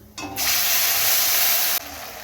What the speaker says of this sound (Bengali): ফোড়ন দিয়ে নিয়ে আদা কাঁচা লঙ্কা বাটাটা দিয়ে দিলাম